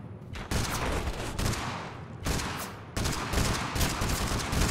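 Sustained bursts of gunfire in the TABS battle royale game, loud and continuous with a few brief gaps, no talking over it.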